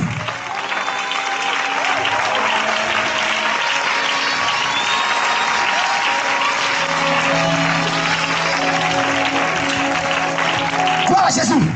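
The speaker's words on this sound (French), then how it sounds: "Give a clap of faith" A church congregation applauds and cheers for Jesus during a sermon, steady dense clapping filling the whole stretch with crowd voices mixed in and sustained musical tones underneath.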